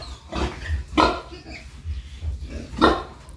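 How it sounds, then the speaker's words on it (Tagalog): Piglets squeal in short, sharp bursts near a sow, with a few loud cries a second or so apart over low grunting and shuffling nearby. "pagka nag-iingay po yung kanyang mga biik, nagugulat po siya, tumatayo po siya"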